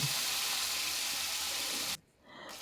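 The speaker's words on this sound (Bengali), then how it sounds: "এবার জিরাটা ফোড়ন হয়ে গেছে তার মধ্যে কিন্তু আমি এবার মশলাটা দিয়ে দিলাম সরিষার মশলা" A paste of mustard, cumin and chili spices sizzles and fries in hot oil, a steady hiss that suddenly drops away near the end and then partly returns.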